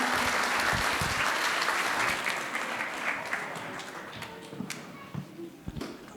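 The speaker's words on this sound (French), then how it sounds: "Sous vos applaudissements." An audience applauds at a church event in Arue. Dense clapping is heard at first, then it thins out and fades into scattered individual claps and light taps.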